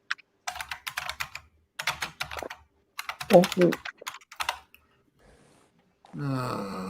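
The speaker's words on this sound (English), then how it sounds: "I'm typing." Rapid clattering keystrokes on a computer keyboard come in several bursts, with brief pauses between them, followed by a short voiced sound at the end.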